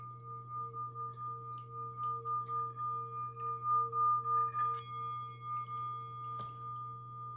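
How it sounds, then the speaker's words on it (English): A singing sound bowl rings after being struck, holding one clear sustained pitch with a slow, pulsing warble that swells and fades, alone and close. "I've never like had an incident like that with the sound bowl where I just smacked it"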